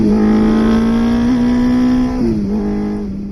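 A 1960s–70s four-cylinder motorcycle with a four-into-one exhaust revs steadily with a deep, raspy exhaust note, the pitch dipping briefly near the end before climbing again.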